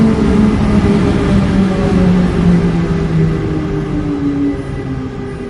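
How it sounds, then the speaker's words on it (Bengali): A down train rolls slowly past the car shed and into a station platform, a steady, loud low rumble with droning tones that eases slightly toward the end. "মন্থর গতিতে কারশেড পেরিয়ে প্ল্যাটফর্মে ঢুকছে ডাউনের গাড়ি।"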